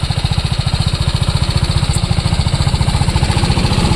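A 2022 TVS Apache RR 310 BS6 motorcycle engine runs steadily on its own, a loud, close, evenly pulsing throb that keeps a regular rhythm throughout.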